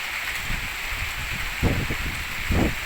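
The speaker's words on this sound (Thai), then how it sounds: "มีฝนมีลมมาแล้วครับ" Evening rain and wind in Phu Sang district, Phayao, Thailand: a steady hiss of falling rain with heavier low gusts of wind buffeting the microphone, loud and close.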